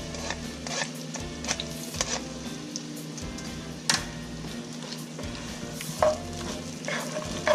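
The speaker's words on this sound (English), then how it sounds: "Now I'm gonna add my garlic and my onions along with my carrots." Garlic, onions and carrots sautéing in melted butter in a soup pot, a soft sizzle with repeated scraping stirs of a spoon, light music playing underneath.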